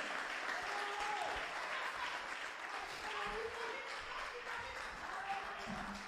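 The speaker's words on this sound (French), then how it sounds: "applaudissements" A church congregation at Sunday worship applauds in a continuous, even wash of clapping, fairly distant and soft, with a voice speaking faintly over it.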